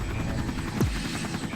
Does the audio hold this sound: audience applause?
no